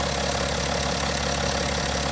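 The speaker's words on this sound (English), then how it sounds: "the engine's just been started for a few minutes. I'm just going to let it idle for a while." A 2012 BMW 530d with the N57 diesel engine idling a few minutes after a cold start, a loud, steady, even rumble with a faint tick running through it and no voices.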